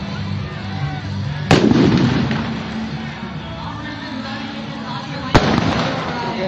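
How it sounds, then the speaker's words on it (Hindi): Fireworks burst at a cricket ground after a youth tournament final, two sharp loud bangs several seconds apart over a crackling, rumbling crowd background, each blast trailing off quickly. "ग्राउंड में आतिशबाजी भी"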